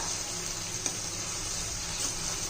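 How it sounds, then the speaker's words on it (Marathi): Hibiscus leaves frying in oil in a pan, a steady, even sizzle with a bright hiss running throughout, close up and alone with no talking. "आपण हे तेल आता चांगलं परतून घेणार आहोत शिजून घेणार आहोत हे पानं"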